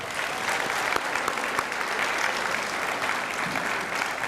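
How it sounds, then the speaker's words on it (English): A school crowd gives a sustained, dense round of applause at an 8th grade awards ceremony. The clapping stays steady and even throughout without pausing. "give them a round of applause"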